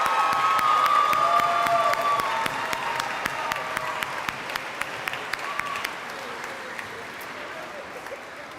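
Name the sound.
applause at a graduation ceremony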